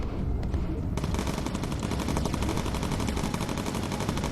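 Rapid machine-gun fire from a bomber's guns in the video game Bomber Crew rattles in a dense, unbroken stream of shots, loud and sustained, with a brief quieter lead-in before the barrage takes over.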